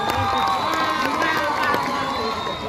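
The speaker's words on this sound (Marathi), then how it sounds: "जरा टाळ्या वाजू देत ना" A lively crowd at the Akluj Festival 2023 cheering and shouting continuously, with excited voices and whoops blending into a loud, steady roar.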